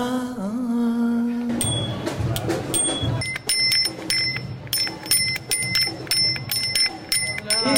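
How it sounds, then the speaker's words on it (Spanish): Bicycle bell rung repeatedly in quick bright dings, clustered in bursts over background music and ambient noise. "tenemos una bici ahí con un timbre que está buenísimo"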